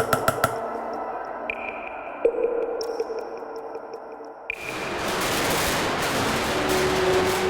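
Firecrackers and fireworks at the Fallas festival in Valencia: a few sharp cracks at the start, then a dense, loud burst of continuous crackling noise that fills the rest of the scene. High electronic tones ring beforehand.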